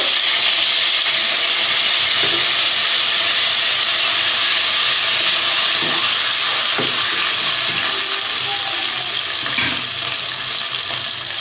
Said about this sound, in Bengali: একটু জল দিয়ে দিচ্ছি, কারণ আদা বাটা প্রচণ্ড খেতে।